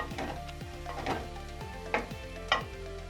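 Chicken pieces with ginger garlic paste frying in hot oil, a close sizzle with scraping stirs of a spoon against the pan and a few sharp clinks as the pieces are turned.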